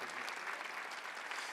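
A church congregation at a Sunday worship service claps together, a soft, distant wash of steady applause filling the space.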